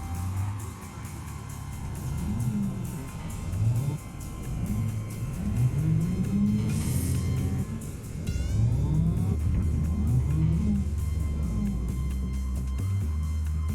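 A truck driven in Cyberpunk 2077 with an electric-sounding drivetrain, its steady motor hum rising and falling in repeated whining sweeps as it accelerates and shifts, over a constant low rumble.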